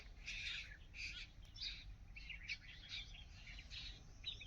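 Several birds chirp in quick, repeated bursts close by at a feeding platform strewn with wheat grain, bright and busy over a low background rumble.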